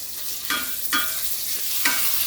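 Tomatoes cooking in a pan with Kashmiri red chilli powder for a chana dal and ridge gourd curry, a steady sizzle cut by three distinct scrapes of a spoon against the pan, with no talking.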